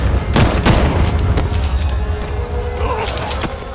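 Gunfire in Batman: Arkham Knight comes as a loud, rapid volley of shots and impacts, bunched at the start and then continuing more sparsely under other game noise.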